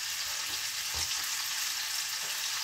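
Fish frying with onion in a hot pan gives a steady, close hiss and crackle of sizzling oil, with a few soft bumps as the pieces are stirred and no talking.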